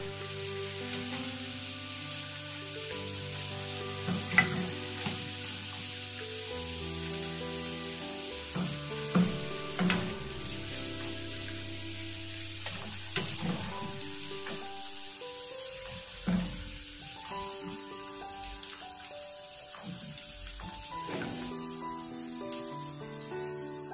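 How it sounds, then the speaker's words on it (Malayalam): Tuna pieces frying in hot oil for fish pickle give a steady close sizzle and crackle with occasional pops and stirring scrapes, while soft music plays underneath throughout. "ഇതുപോലെ നമുക്ക് ബാക്കി ഇരിക്കുന്ന മീനും കൂടെ വറുത്തെടുക്കാം"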